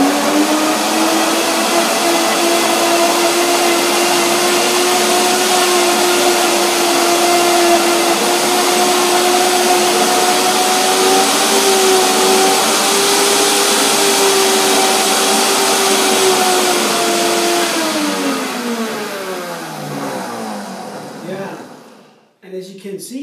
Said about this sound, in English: So it needs some more blending